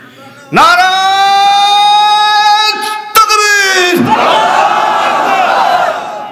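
A large crowd chants slogans in unison with loud, sustained voices at an outdoor religious sermon, one long shout breaking briefly and resuming, then dissolving into a roaring cheer.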